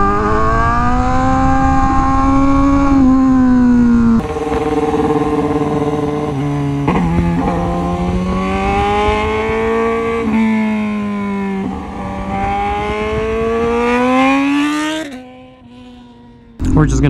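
A Honda CBR Fireblade RRR SP motorcycle engine revs loudly and close, its strong buzzing tone rising and falling in pitch over several throttle blips before dropping away near the end.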